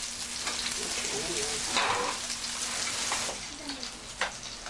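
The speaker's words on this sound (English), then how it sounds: "The whole village starts to smell of frying Korean pancakes." Steady crackling sizzle of Korean pancakes frying in a pan during Chuseok, dense and close, with a few faint clinks and soft background voices.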